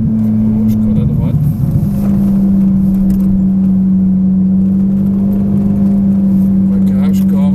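A Ferrari engine accelerating on a race track, heard from inside the car as a loud, steady droning hum that drops slightly in pitch and then holds, with voices speaking over it.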